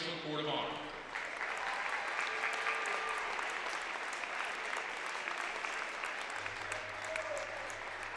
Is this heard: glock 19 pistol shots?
no